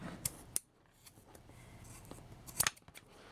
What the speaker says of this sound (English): most of the time I just use scissors to cut the rope